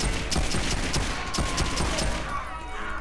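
Rapid pistol gunfire from a quick shot pistol in the video game Saints Row IV, a dense string of sharp shots crackling close and loud over game background noise for about three seconds.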